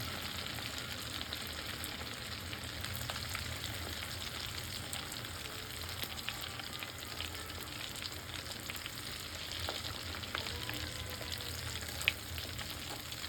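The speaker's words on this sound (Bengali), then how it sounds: "তো আমরা সবগুলো বস্তু এভাবে ভেজে নিয়ে ফিরে আসছি তো আমাদের গোস্তটি আমরা লাল লাল করে ভেজে নিয়েছি" Beef pieces frying in a pan for Chittagong-style kebab, a steady close sizzle with faint crackles running continuously throughout, with no voices.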